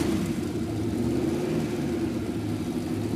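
A drag boat engine starts and settles into a loud, steady low rumble that revs slightly, close up, with no voices.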